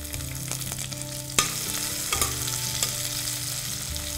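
Thinly sliced onions fry in hot oil with cumin, giving a constant loud sizzle. Scraping stirs and a couple of sharp utensil knocks against the pan sound with no one talking.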